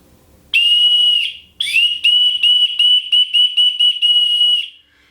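A fun novelty whistle is blown close by: one long shrill blast, a short pause, then a quick run of sharp rhythmic toots ending in a final sustained note, with no voices.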